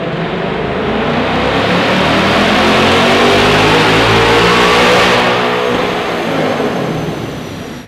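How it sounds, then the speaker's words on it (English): A 2024 Ford Mustang GT V8 with a resonator-delete H-pipe exhaust revs hard on a dyno, a loud sustained rising roar that holds and then tails off near the end. "threw the H-Pipe on, and then ran it again on the dyno"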